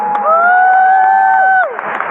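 Church congregation at a Christmas gathering in GBK cheering loudly, a sustained rising whoop of many voices with clapping underneath that fades out near the end.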